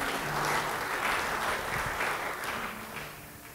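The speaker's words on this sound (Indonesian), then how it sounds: "Beri tepuk tangan bagi Tuhan" Dense applause from a church congregation fills the space, holding steady before easing off slightly at the end.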